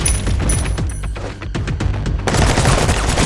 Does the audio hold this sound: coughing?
no